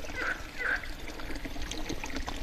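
Water runs and trickles from a village fountain in a green mountain village on a warm day with a light breeze. The flow is steady and fairly close.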